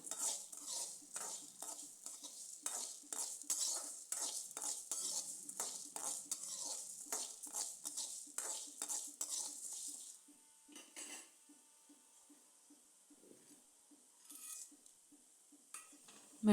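Coriander seeds and peppercorns dry roast in a pan under a spoon that scrapes back and forth in a quick steady rhythm. The strokes then thin out into occasional light scrapes over a faint hiss.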